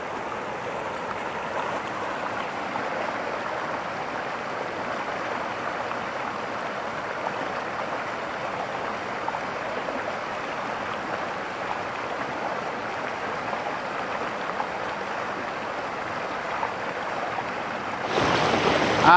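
A river in the Assam hills rushes steadily, a continuous broadband wash of flowing water without pauses, fairly close and even in loudness, with no voices over it.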